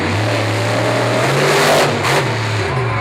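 Bigfoot number 21, a monster truck, revs its engine loudly and continuously at a live monster truck show in Evansville, Indiana, with a droning pitch that rises and dips several times.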